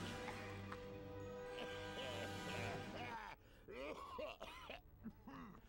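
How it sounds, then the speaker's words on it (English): Character cough sound effect in the Harry Potter and the Prisoner of Azkaban game: a few short, rough throaty coughs near the end, preceded by game music and ambience, fairly close and clear. "I'm almost certain it was not meant to be Snape there, given that cough sound effect."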